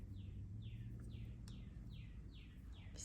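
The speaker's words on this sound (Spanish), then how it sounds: "Si escuchan los pajaritos cantar, es bien tempranito" Small birds sing in the early morning, a repeated descending chirp about every half second, fairly faint and steady over a low background hum.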